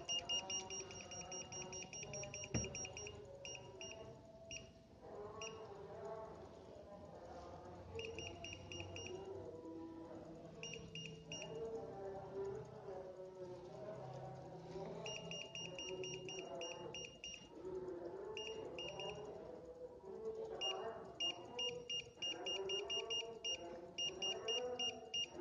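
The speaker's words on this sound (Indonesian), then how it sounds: "Kalau dia miring berbunyi." A digital measuring device emits a high, steady electronic beep when tilted off level, repeating in on-off bursts over the whole stretch beneath a busy, continuous background of other sound.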